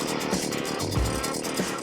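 A chainsaw runs close by during cottage renovation work, a loud rough buzzing engine note that swells and dips in revs over under two seconds.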